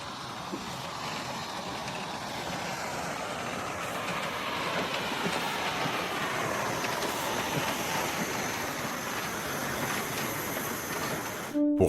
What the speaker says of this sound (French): laisse rapidement la voie libre au Dodion